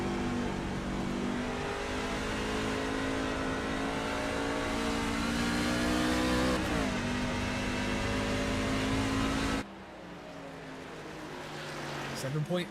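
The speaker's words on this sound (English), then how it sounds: "as they cross the stripe, and you can hear downshifting" A sim racing truck engine at New Hampshire in the Wagoner's Welding Truck Series drones steadily with shifting pitch, then drops abruptly as it downshifts, with a commentator talking over it.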